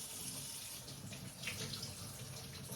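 Tap water runs steadily into a kitchen sink while carrots are rinsed, a close, continuous hiss and splash with no talking.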